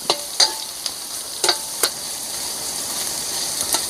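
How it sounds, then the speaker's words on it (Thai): Holy basil pork stir-fried in a pan sizzles steadily, with a handful of sharp utensil clacks against the pan in the first two seconds and a few lighter taps near the end. "เดี๋ยวผัดถึงหอม ๆ ก่อน"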